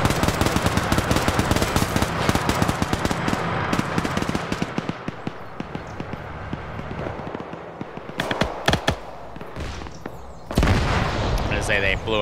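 Dense, rapid bursts of light-caliber gunfire and impacts strike Cromwell tanks in a WW2 tank battle game, hammering steadily, then thinning out and returning in sharp clusters, with someone talking over the fire.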